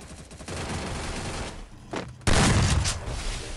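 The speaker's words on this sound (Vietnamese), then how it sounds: "Mấy cây súng sạc này bắn đau đầu thiệt chứ" Gunfire in the mobile shooter game Free Fire, with a shotgun among the weapons: rapid overlapping shots and bursts, growing louder and denser near the end.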